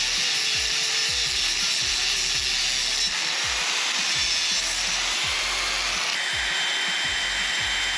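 A power tool cuts a metal mini grab handle part for a 2024 Tiger 900 Rally Pro motorcycle. The harsh, steady, close cutting whine and hiss runs without a break for the whole stretch, with no voices.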